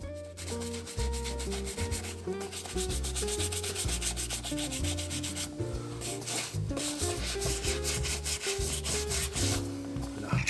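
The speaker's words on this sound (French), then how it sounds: "On insiste bien sur les coutures. Et on frotte un maximum." Stiff scrubbing on leather Doc Martens boots, worked hard along the seams, a steady rubbing hiss that runs the whole time under prominent background music.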